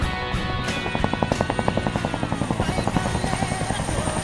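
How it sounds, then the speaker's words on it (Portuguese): A helicopter's rotor thumps in a steady rapid rhythm, loud and close, with a constant engine whine underneath. "Vem helicóptero!"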